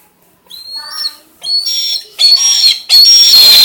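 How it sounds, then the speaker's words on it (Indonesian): A pet eagle gives a series of shrill, whistling calls, short bursts at first, then longer, louder cries that grow denser toward the end. The calls are heard alone, with no talking. "ini adalah burung peliharaan saya."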